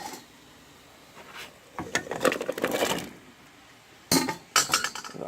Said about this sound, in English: Now I'm going to dump the onions into it.